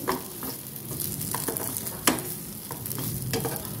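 Mashed green chillies are stirred in oil in a frying pan, with a steady hiss of frying under intermittent close scrapes and knocks of a spoon against the pan.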